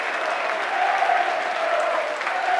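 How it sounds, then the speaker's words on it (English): Hull KR Rovers fans in a rugby league stadium give a sustained round of applause as Briscoe leaves the pitch during a 2008 Challenge Cup match against Huddersfield, a steady wash of crowd clapping throughout. "coming off to a massive round of applause from the Rovers faithful"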